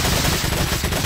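Rapid gunfire from the video game Resident Evil 4, loud and dense bursts of shots packed together across the whole moment with no talking over them.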